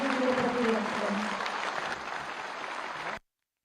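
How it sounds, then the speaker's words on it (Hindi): A large crowd claps loudly and steadily for the Chief Minister at a public event, and a voice briefly speaks over the start before the applause cuts off abruptly. "एक बार जोरदार तालियों से अपनी कृतज्ञता माननीय मुख्यमंत्री जी को प्रकट करें।"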